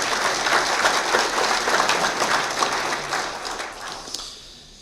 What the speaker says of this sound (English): I'd like to thank them and give them a round of applause.